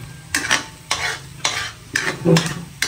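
Onions and garlic sauté in a pan with repeated rhythmic stirring strokes, five or six scraping bursts over a steady close sizzle.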